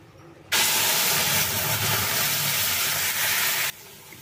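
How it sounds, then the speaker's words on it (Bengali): Coriander leaf paste hits hot oil while mashed potato (alu bharta) is being cooked. A loud, steady sizzling hiss bursts in, holds for about three seconds and then stops abruptly. "তেল গরম হয়ে গেছে, এখন আমি এর মধ্যে যে ধনে পাতা বাটাটা করে রেখেছিলাম সেটাকে দিয়ে দিলাম"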